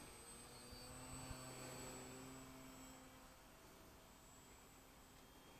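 Flair Harvard model aircraft converted to electric power flies overhead, a faint steady whine and hum drifting at a distance and slowly fading, with no talking.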